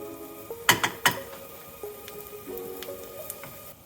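Chopped garlic, about three cloves, frying in a pan for Taiwanese beef noodle soup: a soft, crackling sizzle with a few sharp pops and spits clustered early, then a lighter, steady frying hiss.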